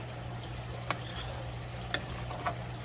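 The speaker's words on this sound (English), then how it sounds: "We're going to stir those in and let them cook." A spoon stirs wide egg noodles or dumplings into a pot of homemade chicken soup, giving a few faint, sparse clinks and scrapes over a steady low simmering hum.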